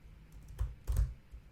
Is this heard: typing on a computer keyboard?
yes